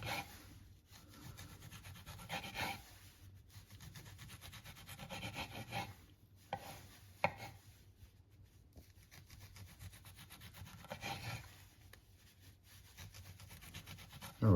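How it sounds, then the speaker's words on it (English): A serrated knife saws through tomatoes on a board with soft, repeated rasping strokes, quiet and close, and short pauses between cuts. "let's finish cutting these tomatoes here"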